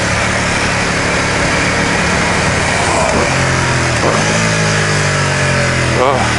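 A Ducati XDiavel motorcycle engine runs steadily while being ridden, a dense, loud roar mixed with wind rush that swells in brief revs near the middle and end.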